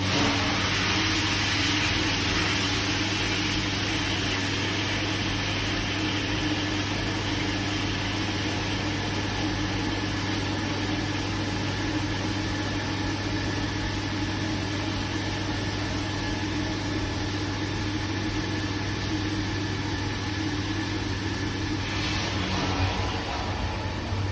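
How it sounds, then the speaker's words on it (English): On a farm, a pump runs steadily, moving freshly pasteurised milk from the pasteuriser into a keg, giving a constant droning hum with a faint hiss that holds evenly throughout, with no talk. "So open that up, turn the pump on."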